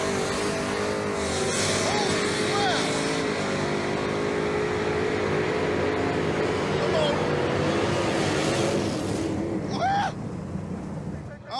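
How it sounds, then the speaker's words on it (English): A muscle car at a drag race roars hard and continuously down the strip for about ten seconds, loud and close, before the engine note eases off and voices briefly come through at the end. "That was a hell of a drag race."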